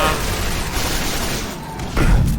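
A grenade blast in the Quake 4 shooter game: a steady clatter of gunfire gives way to a heavy, deep boom near the end, with someone talking over the action.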